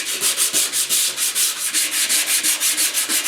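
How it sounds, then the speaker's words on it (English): Rhythmic back-and-forth strokes of 150 grit sandpaper rub across a 1972 Ford air cleaner, about a dozen even, close scratchy passes with a steady beat and no talking. "just a little light shot with some 150 grit"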